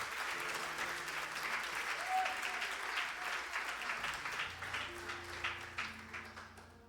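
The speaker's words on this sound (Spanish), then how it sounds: "Den un aplauso a Dios." A church congregation claps together in sustained applause that starts dense and loose and then settles into a more rhythmic beat toward the end, with a low organ-like tone underneath.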